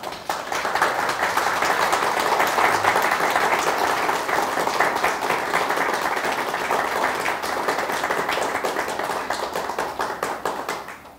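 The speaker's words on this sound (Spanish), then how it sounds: "les quiero pedir si los representantes que están en la generación me regalan un aplauso para todos aquellos que hicieron posible esto" A graduating class and guests at a diploma ceremony give steady, full applause, many hands clapping together in a dense, even wash that holds for about eleven seconds before easing slightly at the end.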